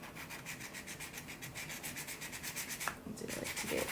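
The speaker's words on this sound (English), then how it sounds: "Go in with our sanding, and I'll do the other one in a second" Steady rhythmic rubbing of a sanding sponge over a handmade metal jewelry piece, a close, continuous scratchy back-and-forth stroke that keeps an even pace without any voices.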